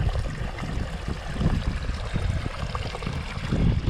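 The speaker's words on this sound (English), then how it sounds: "the water comes down here through a pinch point just to tighten it up, and then you get a gentle babbling effect here" Water in a garden water feature passes through a narrow pinch point and babbles over stones, giving a close, steady gurgle and trickle with soft low splashes and no voices.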